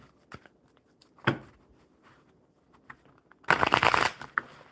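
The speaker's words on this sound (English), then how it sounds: "One more shuffle here." A deck of playing cards is shuffled during a casual card-reading session, with a few soft riffles and then a loud, dense burst of riffling near the end, close to the mic, with no talk over it.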